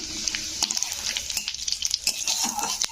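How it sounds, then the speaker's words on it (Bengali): Cumin seeds frying in hot oil alongside dried red chillies and bay leaf, a close, steady sizzle broken by scattered crackles and a few light scraping stirs, with no voices. "তো জিরেটাকে একটু ভেজে নিলাম লাল করে।"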